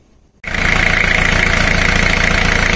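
A car engine cranks and catches abruptly, then settles into a steady, loud fast idle with a rapid even pulse, heard close and alone during a cylinder power balance test.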